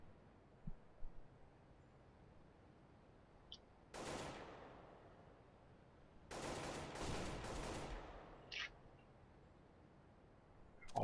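Desert Eagle pistol gunfire in Counter-Strike on de_dust2 during a Na'Vi vs. ESC match: a few sharp, distant shots, one at about four seconds and a longer burst of three around six to eight seconds, over faint background hum.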